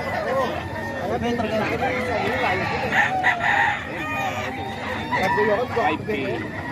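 Roosters and other chickens kept in Tondo, crowing and clucking amid lively chatter of people talking nearby.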